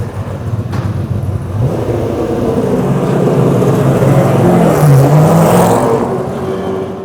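A car engine is blipped and revved loudly and close, the throttle rising and falling in several surges over a continuous engine drone, with no talk.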